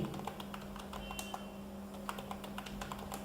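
Keys on a computer keyboard are tapped in quick irregular clicks as a password is typed, ending on a firmer keypress for enter, all quiet and close with a faint steady background hum.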